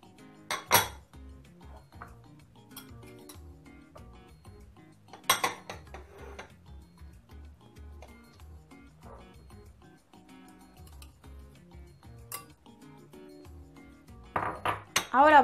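Pasta salad ingredients, tuna and egg, being added to a mixing bowl: quiet kitchen clinks and taps of utensils against a bowl, with a few sharper clatters, close, and no talking.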